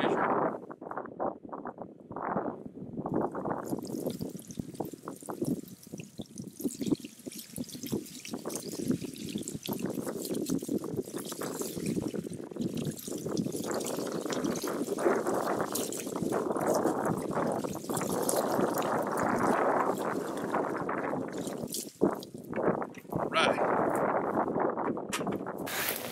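Leftover water poured onto an outdoor fire, a steady close splashing and trickling pour running for most of the stretch, with wind noise underneath.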